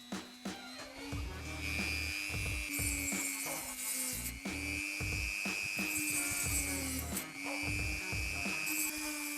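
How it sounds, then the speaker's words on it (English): A tool cuts straight along the center groove of the welded plastic case of a BMW X3 F25 alarm siren, giving a steady, high, whining grind in repeated strokes with brief pauses between passes. "Cut it straight, right along the center groove."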